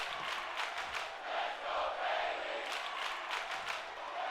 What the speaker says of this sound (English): You already hear the Chicago crowd chanting, "Let's go Bailey."